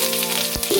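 Sliced ridge gourd frying with potatoes in a pan of hot oil, a steady close sizzle with a brief stirring scrape near the end.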